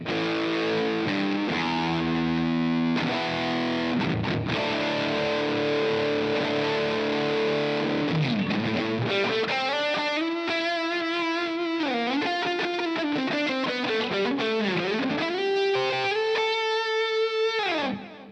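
Electric guitar strums sustained distorted chords, then shifts into bending single-note melodic lines, thick and loud throughout with no voices.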